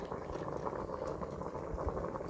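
Matoke, green banana, boiling in a pot: a continuous low bubbling and simmering churn, close and steady, with no voice over it.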